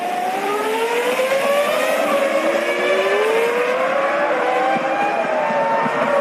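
Formula One race cars, including a Ferrari, at the 2005 Malaysian race, their engines screaming loudly and steadily as they race past, with rising and falling whines overlapping throughout.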